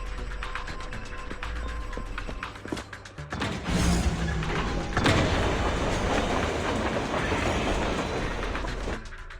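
A train moves in the video game Zenless Zone Zero, with a loud, steady rumble and rhythmic clacking that swells into a heavier rush partway through, with no voices.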